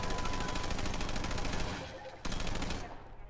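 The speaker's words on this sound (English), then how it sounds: "this is like a different gun. A different, way more accurate gun." A turret gun in Half-Life 2, firing a rapid, loud automatic burst that briefly drops away and then resumes before fading at the end.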